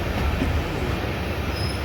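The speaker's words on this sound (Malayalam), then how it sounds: "ട്രെയിൻ ഇവിടെ നിർത്തുമെന്ന് തോന്നുന്നു" A Jan Shatabdi express train in Kerala rumbles past, close and loud, with a dense, continuous roar of rolling wheels and a faint high squeal running through it.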